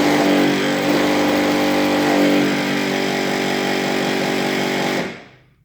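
An old, worn headlight motor on a C5 Corvette lowers the headlight with a loud, coarse whirring grind that runs steadily for about five seconds, then winds down and stops.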